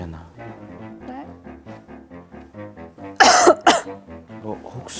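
A person talks steadily, then gives two harsh, loud chronic coughs close to the microphone before speech resumes.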